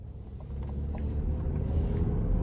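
A 2026 GMC Acadia AT4 with all-wheel drive and a 2.5-litre turbo engine driving on the road, heard as a steady low cabin rumble with road and engine noise building slightly.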